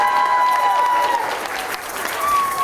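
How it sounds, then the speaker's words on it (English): Audience at an elementary school kindergarten spring concert applauds in a steady, diffuse wash of clapping, heard alongside a sustained tone and some overlapping voices. "Applause, please."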